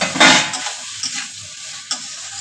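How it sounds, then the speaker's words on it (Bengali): Fried potatoes are stirred into a spice masala in a pan for a vegetarian potato curry, a loud close sizzle with several sharp scraping strokes of a spoon. "একটু আলুটা দিয়ে আবার আমি একটু কষাবো। দিলাম ভাজা আলুগুলো,"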